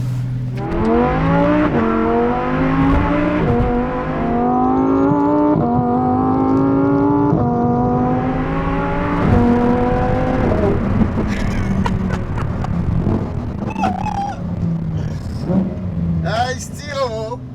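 A Lamborghini STO (Super Trofeo Omologata) sports car accelerates hard through the gears, its engine note rising in repeated climbing sweeps with shifts, then settling lower. Excited voices talk over it toward the end.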